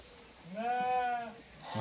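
A newborn goat kid for sale gives one clear, wavering bleat close by, rising and fading over about a second against quiet background noise.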